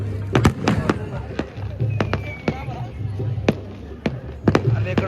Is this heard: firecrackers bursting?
yes